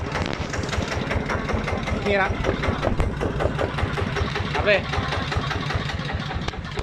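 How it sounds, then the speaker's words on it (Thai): A Macnum 155 diesel engine with electric start runs with a rapid, steady knocking pulse at idle and swells a little when revved, while someone talks over it. "ถ้าเบาเครื่องนะครับ ถ้าเร่งเครื่องไฟก็จะ ออกมาสว่างนะครับ"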